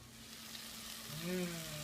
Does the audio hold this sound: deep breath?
no